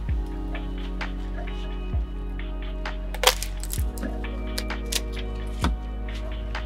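Knife cutting through the stalk of a white cauliflower head grown in a container in an urban garden, giving several sharp crunching snaps and cracks over a steady low hum.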